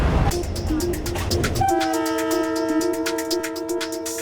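A train rumbles along the rails with rhythmic clacking, while a sustained horn-like tone sounds over the running noise, close and loud.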